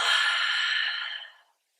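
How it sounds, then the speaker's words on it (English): One long breathy exhale comes through the nose or mouth during a yoga twist, close and steady, and then fades into silence after about a second and a half. "Exhale"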